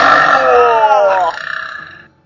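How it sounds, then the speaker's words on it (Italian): A long, loud, gurgling burp, close and dry, about two seconds, ending in a rattling fade, with no talk over it. "Hai visto che schifo questo rutto, come puzza?"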